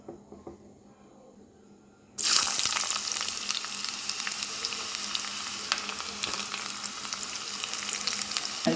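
Small shallots drop into hot coconut oil for a fish curry, setting off a sudden loud, steady sizzle that holds close and strong after a quiet start.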